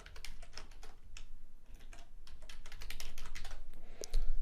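Rapid keyboard typing on a computer as a password is entered for an account sign-up, a dense, continuous stream of sharp clicks growing slightly louder toward the end, with no voices.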